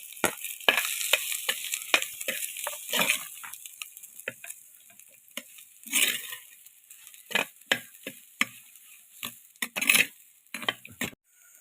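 Shallots, garlic, curry leaves, coconut and green chili sizzle in a pan, with frequent sharp scrapes and taps of a spoon stirring at close range and a soft crackle between strokes.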